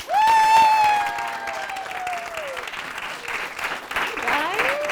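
A live studio audience at a spring launch event greets the hosts with a warm welcome, loud clapping that fills the room while a shrill cheer or whoop rises over it.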